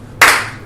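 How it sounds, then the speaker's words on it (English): A single loud, close hand clap rings out once after a short quiet, with a brief decaying tail. "Slow clap."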